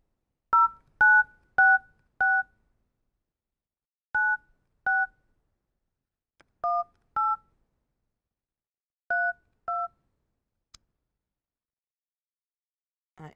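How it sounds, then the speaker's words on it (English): Telephone keypad dialing during a game show draw, a series of about ten short clean DTMF beeps in uneven groups, some paired closely and others spaced apart, with a click near the end and no talking. "I am dialing now."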